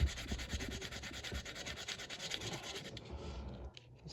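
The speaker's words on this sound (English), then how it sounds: "Sand on it until you get it down flush." Fine-grit sandpaper rubbed steadily back and forth over a nitro RC car exhaust to sand it flush, a continuous close scratchy rasp that thins out near the end.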